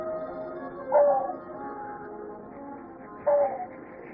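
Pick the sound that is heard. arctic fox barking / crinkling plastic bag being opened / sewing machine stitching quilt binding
arctic fox barking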